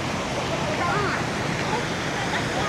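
Rough sea waves make a dense, steady roar of surf, close and loud, filling the scene without a break.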